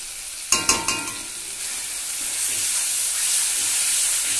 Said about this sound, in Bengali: মশলাটা কিন্তু খুব ভালো করে কষাতে হবে।